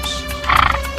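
A restless horse being calmed neighs loudly up close in one short, shaky whinny that swells midway and then fades, with no voices.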